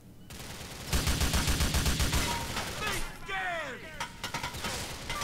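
Dense bursts of rapid gunfire in the video game GTA IV rattle on continuously, mixed with echoing battle noise and whooshing effects, loud and close throughout.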